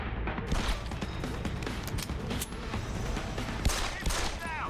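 Dense gunfire in the video game Deus Ex: Human Revolution, continuous loud rattling bursts and overlapping shots filling the whole stretch, with shouted voices in the mix.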